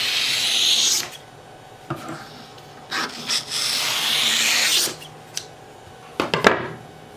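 Scissors cutting through printed sublimation paper into strips, several rough rasping snips in bursts with short pauses between, close and fairly loud, no talking.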